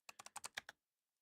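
Quick burst of about seven crisp keystrokes on a computer keyboard, close and fairly quiet, followed by silence.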